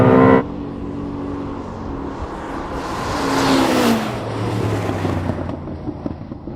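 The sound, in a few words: supercar launching with heavy wheel spin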